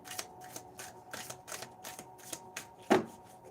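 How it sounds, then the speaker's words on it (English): Affirmation cards being shuffled by hand, a quiet run of soft rhythmic riffling flicks with one sharper slap near the end, close and alone. "And I'm really awful at shuffling."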